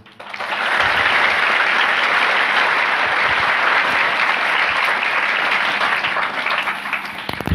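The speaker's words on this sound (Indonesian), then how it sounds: "Kasih aplaus buat beliau." An audience at a pesantren event breaks into loud, sustained clapping that rises quickly and holds steady for several seconds, a dense wash of many hands with no speech over it.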